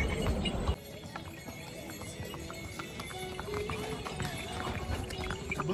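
Horse hooves clip-clop along the mountain trail toward Kedarnath, a steady rhythmic stepping under ongoing talk and outdoor noise.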